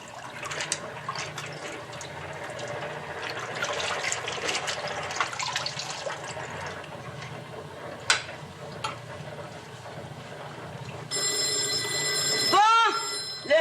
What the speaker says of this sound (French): Le téléphone, Astère.